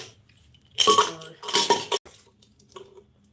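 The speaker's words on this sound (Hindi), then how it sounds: "बर्तन को रख दूं।" Metal dishes and utensils clatter and clink in two loud bursts of handling, a pause, then a softer knock as they are set down. The setting is a home.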